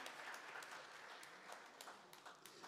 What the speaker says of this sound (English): Can we clap our hands now and give God praise